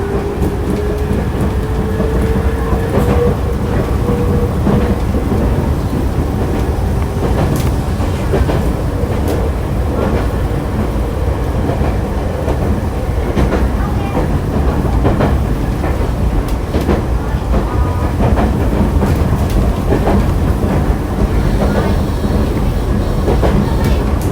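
Interior running sound of a Nankai Kada Line train, the 2036F Medetai Densha Kanata set between Wakayamashi and Kada, with a steady loud rumble and rhythmic clickety-clack of wheels on rail joints throughout, with no talk.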